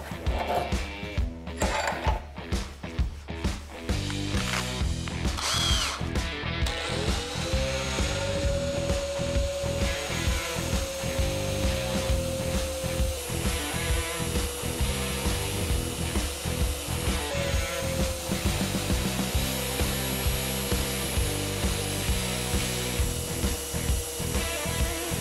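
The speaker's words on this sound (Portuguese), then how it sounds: "eu vou prender ela na furadeira para poder desgastar com a esmelhadeira e ficar bem centralizado essa parte cônica da barra" A metal bar clamped in a spinning drill is ground to a centred conical point with an angle grinder, a steady loud whine with a rising tone running continuously, broken up by clattering at the start.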